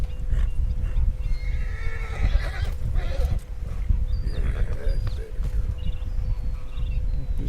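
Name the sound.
horse whinnying and hooves in video game Red Dead Redemption 2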